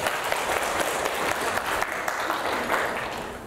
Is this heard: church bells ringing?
no